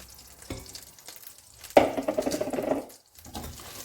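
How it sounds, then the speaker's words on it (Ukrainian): Soy sauce marinade from chicken hits a hot pan with a sudden burst of crackling sizzle that lasts about a second before fading, after a faint clink beforehand, with no talking. "Сюди я виливаю ось цей соєвий соус, в якому ми маринували."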